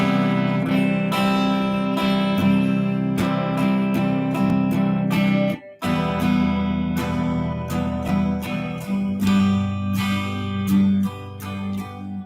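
Guitar strumming exercise, with full chords struck in a steady rhythm, loud and close, a brief pause near the middle before the pattern resumes, with no voice over it.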